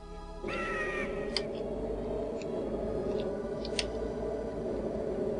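Crow-like caws from the video game Vampires Dawn sound in a few short calls over a steady droning game ambience, with a brief whistling tone near the start.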